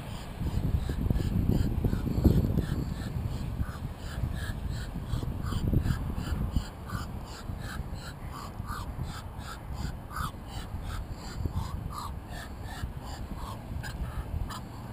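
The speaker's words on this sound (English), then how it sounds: "Big duck walking out towards me here." A big duck walking toward a park fishing spot makes odd, repeated raspy calls in a steady pulsing series, close by over an outdoor background.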